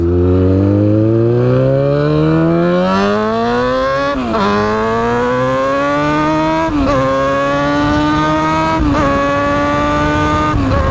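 A Yamaha FZ6R motorcycle with a timing advance mod revs hard on a night test ride. The engine climbs in pitch through several loud, close gear pulls, with brief dips at each shift.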